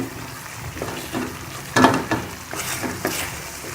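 Rabri halwa roasting in ghee in a pan, a soft steady sizzle broken by several scraping stirs and clinks at irregular intervals, close and moderately quiet.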